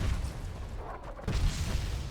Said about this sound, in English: I can hear gunshots.